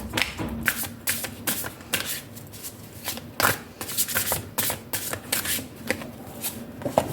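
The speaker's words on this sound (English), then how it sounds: "if I talk while shuffling, I don't know how much I've shuffled" Tarot cards are shuffled repeatedly up close, with quick riffling bursts and soft taps in an irregular rhythm, no talking.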